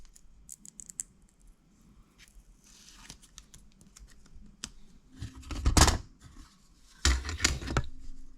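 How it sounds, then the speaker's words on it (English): X-Acto knife cutting printed stripes for a Robskii Fab RC body, heard as faint scratchy scraping and ticks, then two louder bursts of slicing or rubbing near the end, close up with no talking. "just cut it out with X-Acto"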